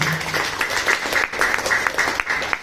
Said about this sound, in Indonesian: Tepuk tangan dulu atas.